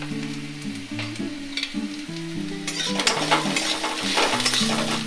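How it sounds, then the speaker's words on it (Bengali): Onion and garlic frying in a pan give a steady sizzle with stirring scrapes and light utensil clinks, growing denser toward the end, all under melodic background music. "এই পেঁয়াজ রসুন ভাজাটার মধ্যে দিয়ে নেব আমি পরিমাণ মতন একটু নুন"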